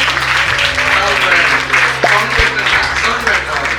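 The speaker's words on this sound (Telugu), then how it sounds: "ఓకే, చప్పట్లు పెడదాం మాత్రమే." Audience applause at the launch ceremony of a Christian TV channel in Madhavapatnam, steady close clapping lasting a few seconds, mixed with a low hum and brief voices.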